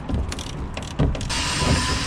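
Metal brackets and fixings being undone on a custom truck build, giving close, loud clanking and ratchet-like mechanical rattles with sharp knocks through a continuous workshop rumble.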